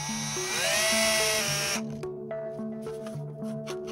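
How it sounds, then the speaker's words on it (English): Drill spinning a 3-in-1 countersink bit into a screw hole in a PC case: a high whine that winds up, then cuts out and leaves a few light tonal rings, close and without talk. "The 3-in-1 countersink."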